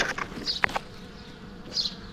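Bees buzzing around a hive built in a garden bush by a street, heard as a soft steady hum with a few closer, louder passes as individual insects fly near, and no talk.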